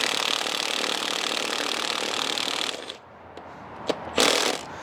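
An impact wrench on its lowest setting, used while servicing a Troy Bilt 2840 snow blower, runs with a loud, continuous buzzing whir for about three seconds, stops, then gives a couple of short clicks and one brief final burst.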